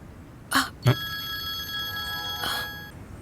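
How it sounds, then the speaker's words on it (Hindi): A telephone rings in two electronic bursts with a pause between, following a short knock, fairly close in a quiet room. "तुम्हारा फोन है?"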